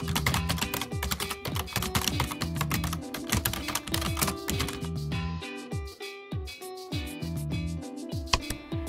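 A computer keyboard is typed on rapidly and continuously, with close, dense key clacks that pause briefly before resuming, over a steady low background tone.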